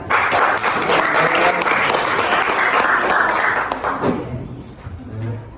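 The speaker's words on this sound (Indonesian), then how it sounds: "Aplaus." Loud applause from a group at a school podcast recording, steady clapping for about four seconds before it thins out and fades.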